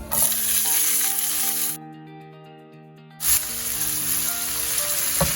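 Chopped onions hit very hot oil for chicken pulao, giving a loud, close hiss that drops out for about a second and a half under sustained musical tones, then surges back and continues steadily.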